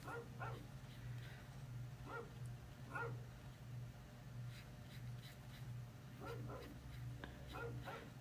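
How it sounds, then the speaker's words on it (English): A dog barks outside on a windy day, short bursts of distant, faint yips and barks in uneven clusters over a steady low hum. "He's got to be barking at the cats."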